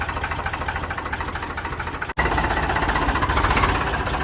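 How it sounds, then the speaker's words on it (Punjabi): A Farmtrac 45 tractor engine runs steadily and loudly nearby, a constant throbbing drone with a brief cut partway through before it resumes. "ਆਵਾਜ਼ ਬਹੁਤ ਸੋਹਣੀ ਆ ਬਾਈ ਟਰੈਕਟਰ ਦੀ ਆਵਾਜ਼"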